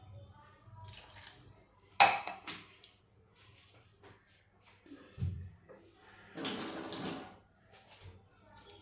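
A little water poured into a pan of potato curry, a brief splash and trickle after a sharp metallic clatter, with quiet gaps between.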